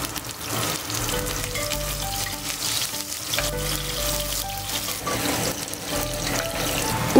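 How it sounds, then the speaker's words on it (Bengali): Lentil dumplings (bori) frying in hot oil for a Bengali shukto, a continuous crackling sizzle with faint tonal music underneath and no speech. "গরম করে নিয়ে এবার প্রথমেই ভেজে নেব বড়িগুলো।"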